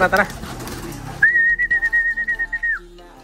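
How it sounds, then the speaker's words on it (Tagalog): A long, steady whistle sounds, then soft pigeon coos pulse in a quick rhythm nearby from speed pigeons. There is no speech. "Solid na kalapati natin to dito."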